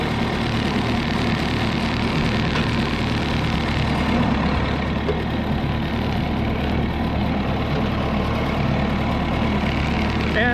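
An Oliver 66 tractor engine runs at a steady, continuous rumble close by, unbroken throughout, on a farm during wheat seed cleaning.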